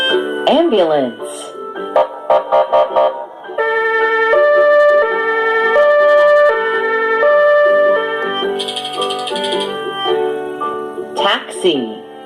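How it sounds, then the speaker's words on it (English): Ambulance siren in a children's vehicle-sounds sequence: a loud two-tone alternating wail held steady for several seconds, bracketed by short musical stings. "Ambulance."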